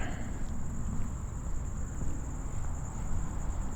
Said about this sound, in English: Hearing a lot of crickets around.